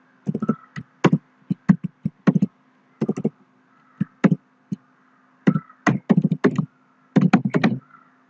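Keys tapped on a computer keyboard while entering Java code in a programming editor, coming in quick clustered bursts of clicks separated by short pauses, close and clear with no talking.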